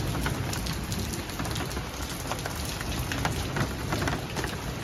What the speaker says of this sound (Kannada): ನೋಡಿ ಮಳೆ ಬರ್ತಾ ಇದೆ ನೋಡಿ